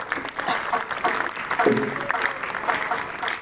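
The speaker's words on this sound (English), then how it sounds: "Give her a big round of applause." Audience at a school Women's Day celebration applauding a winner, a brisk spread of clapping from many hands with a voice briefly heard over it.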